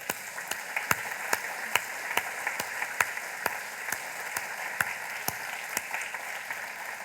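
A church congregation applauds together in steady, dense clapping with sharp individual claps standing out at a fairly regular beat, continuous and moderately loud throughout.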